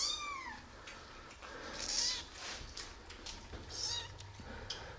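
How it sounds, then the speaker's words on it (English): Tiny baby street kittens mewing in thin, high, repeated cries, several faint calls overlapping close by against low background noise. "Kittens from street."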